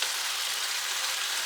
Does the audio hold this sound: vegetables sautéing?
yes